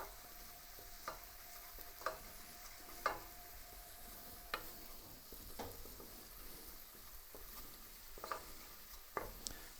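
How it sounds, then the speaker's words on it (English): A flour roux is stirred and cooked in a pot for New England clam chowder, giving a faint, even sizzle with soft, irregular scrapes and taps of the spoon. "stir that so that it makes basically a roux"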